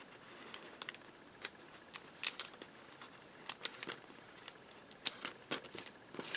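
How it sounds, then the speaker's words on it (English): Small scissors snip through cardstock to miter the corner of a Valentine's shaker card. Quick, faint snipping clicks come at an irregular rhythm over a quiet room, with no talking. "now I'm going to take some little scissors here, and I'm going to miter"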